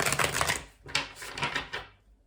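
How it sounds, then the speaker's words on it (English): Rapid papery riffling of a deck of tarot cards being shuffled, a few close crisp bursts in quick succession, then the sound stops abruptly. "Okay, we'll do one last shuffle"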